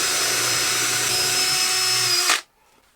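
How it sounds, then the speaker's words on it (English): A power drill with an 8 mm bit bores into wood, whining loudly and steadily up close for over two seconds before cutting off abruptly into near silence. "I have set my 8 millimeter drill bit to go into the wood by 25"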